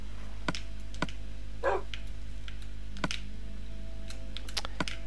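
A dog in Minecraft Xbox 360 Edition gives one short whimpering bark partway through, over a steady run of keyboard clicks and a low hum.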